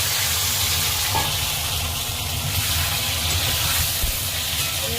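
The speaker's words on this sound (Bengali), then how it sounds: "একবার ফোড়ন দিয়ে আমি সবজিগুলো ভেজে নিচ্ছি। বেগুন, কুমড়ো, আলু" Brinjal, pumpkin and potato fry after tempering for a homemade chicken curry, giving a steady loud sizzle with stirring, close up and continuous without talk.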